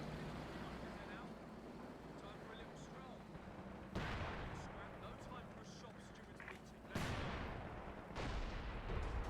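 A sustained artillery barrage in Company of Heroes 2 rumbles as a dense, continuous wash of booming fire, with heavy impacts landing at irregular intervals and a voice speaking over the din.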